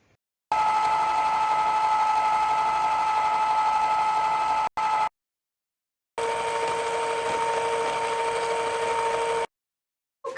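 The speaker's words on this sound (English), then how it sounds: "my ice cream maker just slowly started slowing down and completely stopped" An electric ice cream maker's motor hums steadily and loudly up close, cutting out abruptly, returning, then stopping again with brief silent gaps between.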